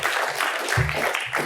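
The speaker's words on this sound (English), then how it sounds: "let's give her a round of applause." A panel audience at a school event on women in construction gives a brief burst of dense applause, with some low voice sounds mixed in.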